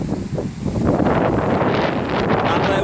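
Strong wind gusts roar against the microphone on the French coast during hot, dry weather, a heavy rushing buffet that swells and holds for the whole moment.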